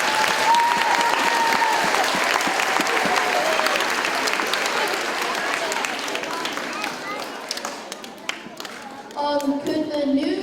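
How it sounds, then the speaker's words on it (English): A school audience at a Stewardship Day event gives a loud, sustained round of applause that gradually thins out, with voices and crowd murmur rising as the clapping fades. "We have one more round of applause for that."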